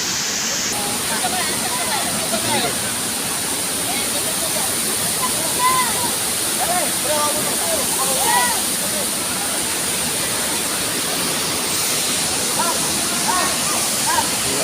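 Steady, loud rush of falling water at Balagbag Falls fills the whole clip, with voices talking faintly underneath.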